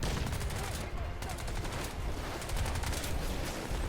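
Weapons fire in the video game Crysis, including rifle rounds and grenade launcher shots: dense, rapid bursts of shots crackle steadily throughout at close range, with no clear pause.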